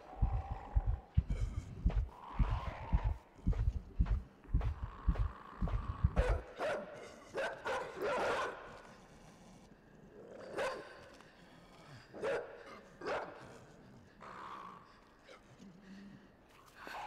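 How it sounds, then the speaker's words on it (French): A dog barks in the video game Inside, scattered sharp bursts at mid-distance that follow a run of low, rhythmic heartbeat thumps which fade out after a few seconds. "Un chien."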